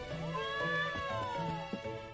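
A cat in the video game Trials of Mana gives a drawn-out, wavering meow that bends slowly downward, with soft game sounds and clicks beneath it.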